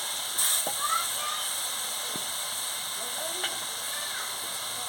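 Water poured into a hot pan of pangas fish curry, raising a steady, loud hiss and sizzle that carries on under a speaking voice.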